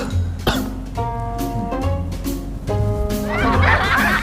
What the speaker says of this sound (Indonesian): Batuk saya kan